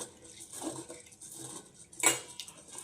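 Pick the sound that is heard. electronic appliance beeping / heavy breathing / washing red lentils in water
washing red lentils in water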